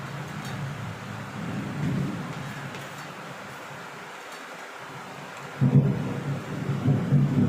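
Heavy rain pours outside while thunder rolls in deep, drawn-out rumbles, with a fresh, louder crash near the end over the constant wash of rain.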